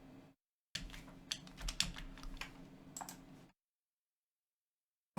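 A computer keyboard clatters with a run of quick, uneven keystrokes for about three seconds between stretches of silence, close and fairly quiet.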